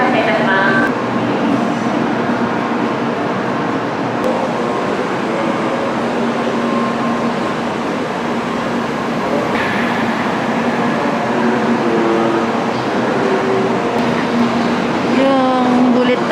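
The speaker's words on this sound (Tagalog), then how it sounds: "Yung bullet train nila, mabilis." Japanese bullet train at Shin-Fuji Station, a steady, loud rumbling drone of the passing train that holds for the whole stretch, with a few brief higher tones rising above it near the end.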